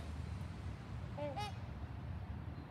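Out in the open, swans give a couple of brief, faint honks midway through, set against a quiet background hiss.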